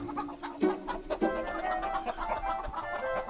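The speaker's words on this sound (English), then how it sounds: "So the chickens were unloaded." Chickens being unloaded at a school, clucking and squawking in an overlapping flurry of calls close by, loud and busy throughout with no speech.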